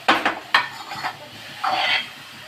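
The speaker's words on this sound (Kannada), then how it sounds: "ಅದಕ್ಕೆ ಆ ತುಪ್ಪನ ಅಬ್ಸರ್ವ್ ಮಾಡಬೇಕಂತಂದ್ರೆ ಈ ಥರ ಮಿಕ್ಸ್ ಮಾಡ್ತಾ ಇರಬೇಕು" Grated carrot frying in ghee in a pan for carrot halwa, stirred with a utensil: several sharp scraping knocks against the pan, then a longer scrape, over a faint sizzle with no talk.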